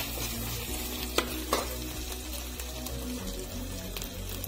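Spices and chili powder fry in a pan for a ghugni recipe, a dense steady sizzle with a couple of sharp utensil taps, close and with no talking.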